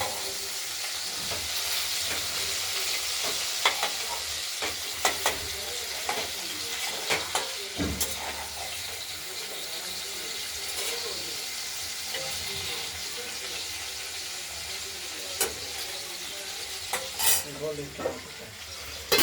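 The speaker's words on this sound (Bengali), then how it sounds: "টমেটোটাও আমরা দিয়ে দিলাম, এটাও ভাজা ভাজা এর সঙ্গে মেশাবো, কষানোর সঙ্গে ভেজে।" Tomatoes frying with spices in a pan for a potato and paneer curry, a continuous crackling sizzle broken by repeated scraping stirs and occasional utensil knocks against the pan.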